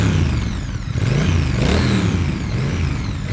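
Loud, bassy exhaust of a 2016 Triumph Bonneville motorcycle engine, revving continuously close by with rising and falling pitch.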